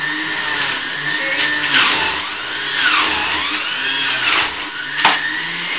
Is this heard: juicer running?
yes